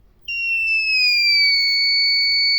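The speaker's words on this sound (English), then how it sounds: "the audible DC buzzer will come on once it detects the fire" A homemade DC buzzer on a school-project flame-detecting fire alarm sounds a steady, loud electronic tone, starting abruptly and holding unbroken to the end with no talk.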